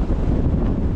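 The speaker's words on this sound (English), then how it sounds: "Oh my god, the wind." A brief, steady blast of strong desert wind in Kenya, loud and rumbling as it hits the microphone, with no voices.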